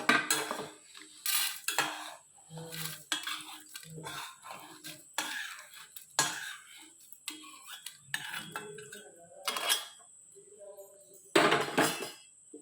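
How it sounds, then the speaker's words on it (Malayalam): Roasted ingredients, including urad dal, are moved into a vessel while making a coconut chammanthi: close, irregular clinks and scrapes of a spoon against metal with short pauses between them. "ഞാൻ ഇതൊക്കെ ഒരു പാത്രത്തിലേക്ക് മാറ്റാം"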